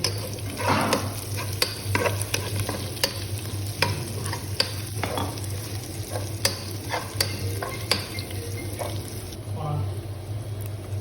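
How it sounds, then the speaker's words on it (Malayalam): Green chillies tossed into sautéed ginger frying in a pan give a steady close sizzle, with repeated sharp scrapes and clicks of stirring throughout and a brief louder hiss near the end. "വാടിയ ഇഞ്ചിയിലേക്ക് കുറച്ച് പച്ചമുളക് കൂടി ചേർക്കുന്നുണ്ട്"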